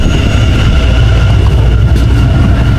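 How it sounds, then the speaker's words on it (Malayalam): Loud, steady rumble of a New York subway train in motion, heard from inside the car as a constant roar with faint rail squeal and no speech. "ട്രെയിൻ ഓൾറെഡി എടുത്തു."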